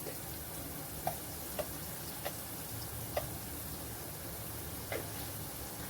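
Asafoetida added to a masala frying in oil, a faint steady sizzle with a few light spaced ticks of a spoon touching the pan.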